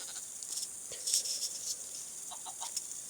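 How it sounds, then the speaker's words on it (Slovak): Chickens cluck in the Minecraft Pocket Edition video game, with soft, scattered clucks and faint game ambience behind them, and no talking. "OK, máme sliepky."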